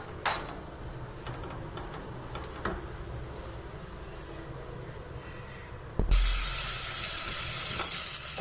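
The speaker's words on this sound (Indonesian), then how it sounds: "dan sekarang digoreng sampai nanti mulai agak wangi, agak terlihat" Diced ingredients for Hungarian lecsó frying in oil in a pan, a steady soft sizzle throughout that swells louder and brighter near the end as more hits the hot fat, with a few faint clinks.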